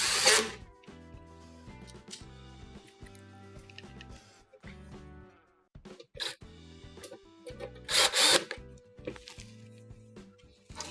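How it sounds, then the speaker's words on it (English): A power drill drives 2 1/4-inch screws into a panel of a Whirlpool stove during repair, with several whining motor runs of a second or two separated by brief pauses and a few louder bursts. "re-secure this panel with the 2 1/4-inch screws we removed from the top"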